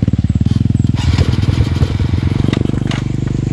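Trail motorcycle engine running close and loud on a dirt trabas ride, a rapid pulsing idle-like thump that roughens and revs briefly, continuous throughout.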